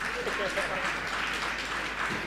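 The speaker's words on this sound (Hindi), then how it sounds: "देखो अपनी ढोंग पर कैसी जबरदस्त तालियां बजा रही" Audience applause at a Jain religious discourse, dense steady clapping from a crowd filling the whole moment, moderately loud and continuous.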